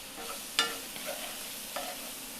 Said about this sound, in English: this garlic, you can see I'm smearing it around with our onions